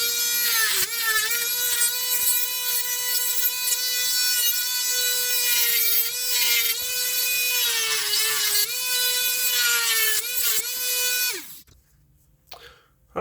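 A Dremel rotary tool trims the body of a vintage Tonka toy truck with a steady, high-pitched whine that dips briefly under load now and then and cuts out near the end.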